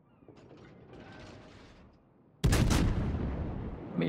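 Naval guns on a heavy cruiser fire shells in World of Warships, a faint mechanical rumble followed by a sudden loud booming salvo with a second blast near the end.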